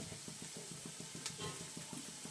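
Curry leaves hit hot oil in a pan while chicken dum biryani is cooked, giving a steady close sizzle broken by quick, regular scraping strokes of stirring. No one talks.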